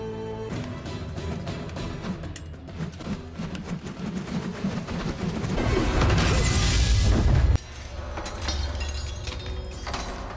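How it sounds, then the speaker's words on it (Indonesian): Swords breaking apart during an anime duel between One Piece swordsmen, a loud sustained crashing burst with dense metallic debris that swells, then cuts off abruptly into a busy action soundtrack. "Hingga membuat kedua pedang Zoro hancur berkeping-keping."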